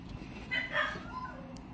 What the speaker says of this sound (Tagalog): Ingay ng mga aso dito.